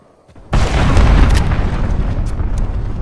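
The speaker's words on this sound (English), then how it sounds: "Allied cruise missile away" A cruise missile strike in Call of Duty: Modern Warfare lands as a sudden, loud boom after a brief quiet moment, then trails into a heavy, rumbling roar that slowly fades.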